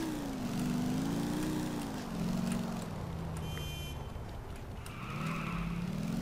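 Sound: car driving in video game Grand Theft Auto IV

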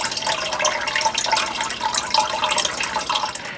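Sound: water flowing from well pump into cottage system

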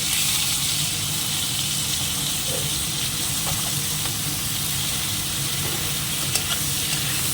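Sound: lightly frying food in a pan

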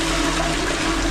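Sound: toilet flushing paper down a drain

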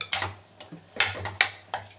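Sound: stirring peanut curry in pot

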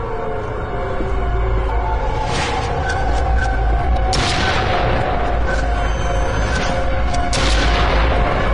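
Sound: shotgun blast in a video game

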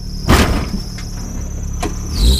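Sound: squealing brakes of a Ford Explorer

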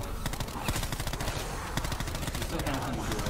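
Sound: burst gun firing in Black Ops 4 Zombies video game

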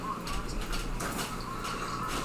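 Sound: electric fan running in the background

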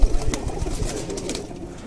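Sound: breeder pigeons cooing

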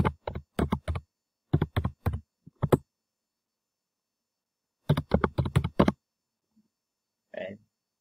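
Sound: typing a file name on a computer keyboard

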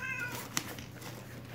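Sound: cat hissing and meowing loudly

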